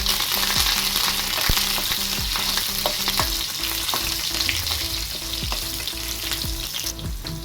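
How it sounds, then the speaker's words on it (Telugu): Cumin seeds, green chillies and curry leaves frying in hot oil for a tomato yogurt chutney, a loud dense close sizzle with sharp pops and stirring scrapes throughout. "కొద్దిగా జీలకర్ర ఇప్పుడు కారానికి తగినన్ని పచ్చిమిర్చి అలాగే కరివేపాకు వేసుకుంటున్నాను"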